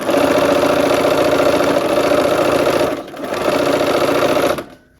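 A sewing machine stitches quilt block pieces with a loud, fast, steady whirring hum close by, stopping briefly partway through before running on and then halting.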